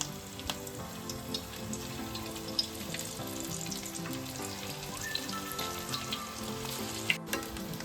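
Rice cutlets fry in a little oil in a pan with a steady, even crackle and sizzle and scattered small pops. The sound is fairly soft and continues without a break.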